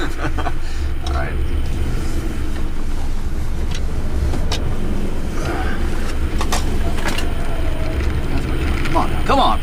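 A 2014 Subaru Forester driving through a cone test, heard as a steady loud engine and road drone from inside the cabin, with rumble and wind noise throughout and a few faint clicks.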